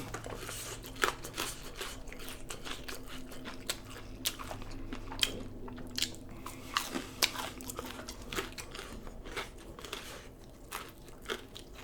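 Chicken tenders dipped in barbecue sauce are bitten and chewed close to the mic, with soft wet crunches and mouth sounds in a steady, continuous stream and faint background noise.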